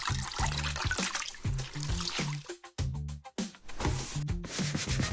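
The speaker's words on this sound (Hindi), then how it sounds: "ये लो बाल्टी, कपड़े को साफ करो।" Wet cloth rubbing and squishing against a surface, with water trickling and dripping from a bucket, a steady scrubbing rhythm that breaks off briefly before resuming, close and moderately loud.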